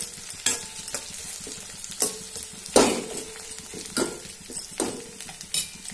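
Okra and potatoes sizzle in a pan while a spoon stirs them, bringing repeated scraping clatters over a constant close frying hiss, with no talking.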